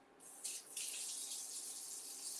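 Water pours from a tap into a cooking pot, a steady hiss that starts abruptly, briefly stutters, then runs on evenly at a moderate, close level.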